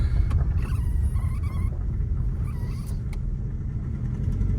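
Engine of a used Honda Civic or Toyota Camry running at a steady idle, a low continuous rumble close by with a faint whine riding above it, no voices.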